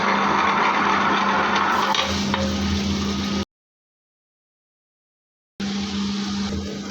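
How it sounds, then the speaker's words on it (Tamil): A wet grinder churning soaked rice and lentils gives a steady, close, whirring hum with a constant low drone. The hum cuts out abruptly for about two seconds, then resumes. "நம்ம கிரைண்டரை போட்டு ஆட்டிடலாம் இப்போ கிரைண்டர் ஓட விட்டு"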